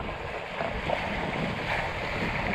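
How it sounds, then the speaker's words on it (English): Wind picking up at sea aboard a sailboat, a steady rushing gust with buffeting microphone noise and the wash of water, loud and continuous with slight swells in intensity. "And now you can hear the winds come up."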